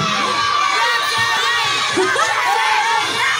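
A live audience cheers loudly and continuously while children shout and squeal through the whole stretch, forming a dense, energetic crowd roar.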